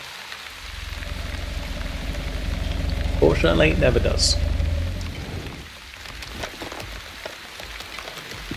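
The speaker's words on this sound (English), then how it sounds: "The sound of the rain is great." Steady rain falls in The Wandering Village video game, a broad hissing wash that swells and fades over several seconds while someone talks over it.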